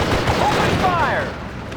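Dense, continuous battlefield gunfire in the WWII video game Hearts of Iron Normandy 44, a steady rattle of overlapping shots with a voice briefly rising through the din.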